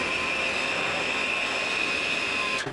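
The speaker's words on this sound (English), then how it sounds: "I've got all the ingredients in this blender. I'm gonna start blending" A countertop blender whirs steadily as it purées homemade hummus ingredients, a loud continuous motor drone with a high whine that holds even for nearly three seconds before abruptly cutting off.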